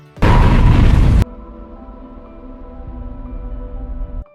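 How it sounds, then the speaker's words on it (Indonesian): A spacecraft blows up in a film scene from X-Men: Dark Phoenix, a sudden loud roaring blast lasting about a second, then cut off into a lingering low rumble with sustained tonal ringing beneath it. "Namun, tidak lama pesawat antariksa tersebut meledak, dan membuat Jin tidak sadarkan diri."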